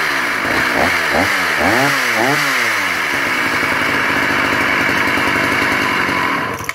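A Dolmar 133 chainsaw runs with its top shroud removed, loud and close, its engine revving up and down in several rising and falling surges before settling into a steady, rough high-speed roar.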